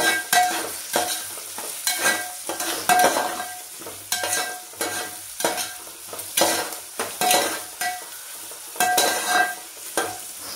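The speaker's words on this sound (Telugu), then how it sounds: "దంచిన వెల్లుల్లిని ఇట్లా వేసేసుకోండి." Crushed garlic fries in a pan for a khichdi, sizzling steadily while a spoon scrapes and stirs it in regular strokes, close and clear, with no talking.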